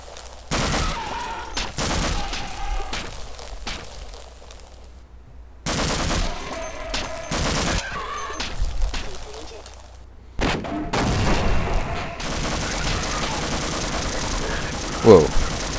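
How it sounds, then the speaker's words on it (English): An automatic turret in the video game Half-Life fires long rapid bursts of gunfire with short gaps between them, loud and close, while a voice talks over parts of the bursts. "Oh, it must be a turret or something."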